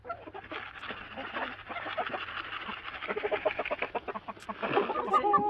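Chickens cluck and chatter while pecking at black soldier fly larvae, a busy run of soft clucks and calls close by, growing livelier toward the end with brief human voices mixed in.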